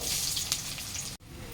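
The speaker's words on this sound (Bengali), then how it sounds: "ওই তেলের উপরে পেঁয়াজ কুচিটা দিয়ে দেবো।" Chopped onion sizzles in hot oil in a home curry pan, a steady close hiss that cuts off abruptly near the end before resuming softly.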